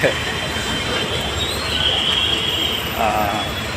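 A special passenger train rumbles steadily along the rails, with a constant low roar and brief high metallic squeals from the wheels.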